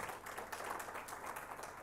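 Applause from the audience at a conference session on Kenya's digital and outsourcing sector, a soft, steady wash of many hands clapping, faint and fairly distant throughout.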